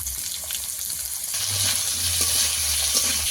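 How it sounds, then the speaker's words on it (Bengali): Potato and onion fry together in a pan with a continuous close hiss and crackle, and a low rumble joins partway through. "আলু আর পেঁয়াজ একসঙ্গে ভাজা হয়ে যাবে।"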